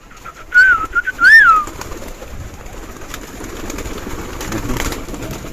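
Domestic pigeons at a large pigeon farm, with a couple of loud close coos near the start followed by quieter rustling, wing and ambient farm noise.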